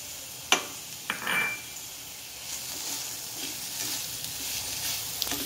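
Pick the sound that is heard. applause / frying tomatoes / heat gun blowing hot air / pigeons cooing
frying tomatoes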